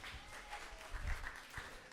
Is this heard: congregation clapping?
yes